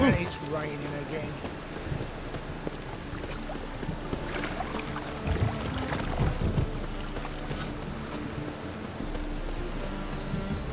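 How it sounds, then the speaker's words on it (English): Steady rain pours down in The Witcher 3 video game, with a low rumble beneath it, a dense continuous wash of sound without clear voices. "And it's raining again."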